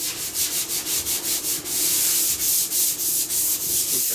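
Hand sanding of the clear finish on a wood countertop between coats, a close, loud rhythmic back-and-forth scrubbing with short regular strokes, briefly steadier midway, and no voices.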